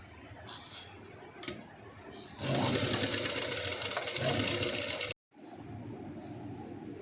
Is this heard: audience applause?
no